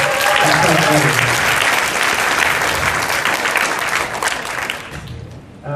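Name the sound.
audience applause at a business event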